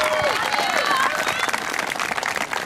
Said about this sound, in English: massive round of applause for you girls